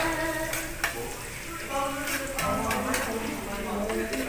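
Sisig frying in a pan, a steady crackling sizzle with clinks of utensils and stirring scrapes, while people talk and chatter nearby over the cooking.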